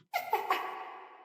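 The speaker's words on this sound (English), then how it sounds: "The cat comes in again." A cat gives a brief, bright chirping trill that rises in a few quick steps, then fades into a short sustained tone; close and clear, with no talking.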